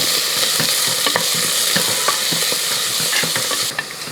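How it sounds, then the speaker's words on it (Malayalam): Chopped onions frying in a pan for kadala curry, a loud continuous sizzle close by, broken by repeated scraping strokes of a spoon as they are stirred. "ഇതൊരു രണ്ട് സവോള ചെറുതായിട്ട് അരിഞ്ഞു വെച്ചിരിക്കുന്ന സവോളയും കൂടെ ഇതിൻ്റെ കൂട്ടത്തിൽ ഇട്ട് കൊടുക്കുകയാണ് അതിനുശേഷം എല്ലാം കൂടെ ഇളക്കി"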